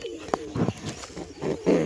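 Pigeons near their eggs give a few soft, low coos and murmurs in a brief, close burst.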